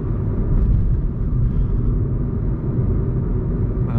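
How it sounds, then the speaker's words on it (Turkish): Road rumble inside a Volkswagen Golf 7 rolling over a bumpy, patched road, a loud, steady low drone with soft irregular thumps and no rattling, heard from the cabin without talking. "Yani bozuk yoldan geçiyoruz şu anda mesela."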